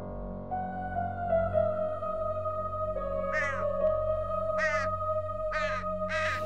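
Several birds caw in short harsh bursts over a steady droning background, the calls repeating at intervals and growing more frequent.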